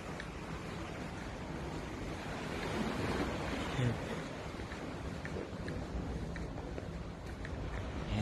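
Sea waves wash onto the shore on a rainy evening, a steady broadband roar of surf with gentle swells, overlaid by wind buffeting the microphone, continuous and fairly close with no talking.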